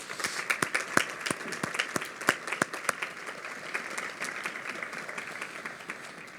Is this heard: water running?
no